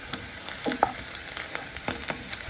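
Onions frying in a pan, a soft steady sizzle with a few crackles and pops, fairly faint and with no voices.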